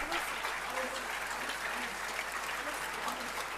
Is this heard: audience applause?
yes